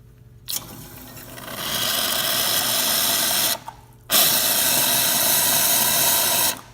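Loud rushing hiss and pump hum as a Bezzera BZ07 espresso machine dispenses hot water, stopping briefly midway and then resuming strongly.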